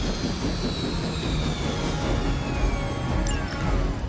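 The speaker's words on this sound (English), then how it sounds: "You've grounded the helicopter." A helicopter's engine and rotor drone steadily in the game Marvel Midnight Suns, a loud continuous whine with a gradually falling pitch sweep and a faint crash near the end.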